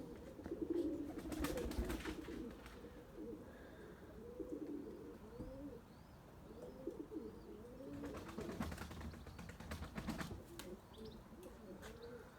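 Turtle doves coo softly and repeatedly at a moderate distance, with occasional wing flaps and faint chirps from other birds in an outdoor setting.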